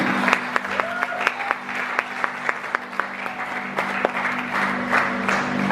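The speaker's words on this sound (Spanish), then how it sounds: "Dale un fuerte aplauso a aquel que vive y reina." A church congregation claps for God during a service, a dense round of applause with sharp individual claps standing out over a low steady hum.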